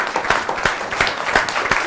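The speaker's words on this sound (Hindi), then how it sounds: "जोरदार खड़े होकर एक बार तालियां बजाइए इनके सम्मान के लिए" Audience at a Holi poetry gathering gives a standing ovation, hearty clapping with a loose rhythmic pulse, close and loud throughout.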